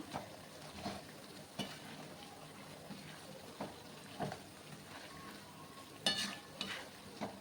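Spice masala for a namkeen chivda snack roasting in a pan, a soft continuous sizzle with periodic scraping stirs, quiet and close with no talk.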